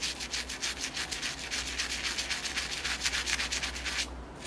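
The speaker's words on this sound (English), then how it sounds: "There's still a little green down here that I need to scrub." A brush rhythmically scrubs green growth off the trunk of a Portulacaria afra bonsai, close up. About a dozen quick, even strokes rasp back and forth before stopping abruptly, with no talking.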